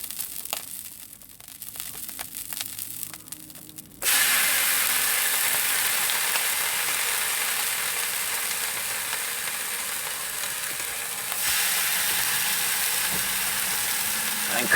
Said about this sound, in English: Put some bacon on.